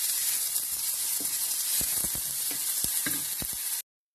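Garlic and onion fry in a pan with a steady, bright, hissing sizzle throughout, broken by occasional light clicks of a utensil, close up, before cutting off abruptly.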